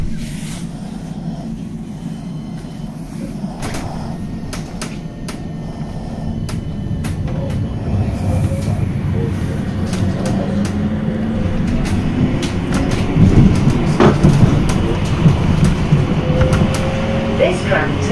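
A West Midlands Metro tram pulls away on the run toward Wolverhampton Station, its low rumble and motor whine swelling steadily, with faint rattles and no voices over it.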